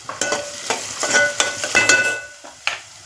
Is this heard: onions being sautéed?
yes